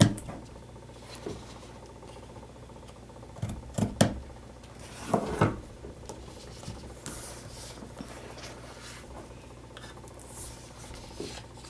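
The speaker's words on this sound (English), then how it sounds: "the last thing to do is to cut the excess ribbon" Scissors trim excess ribbon on a handmade pumpkin-themed card, with close, soft rubbing and a few sharp snipping clicks in short bursts over quiet room noise, and no talking.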